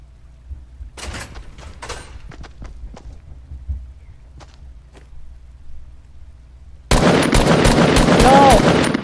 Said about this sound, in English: They're shooting down the trap.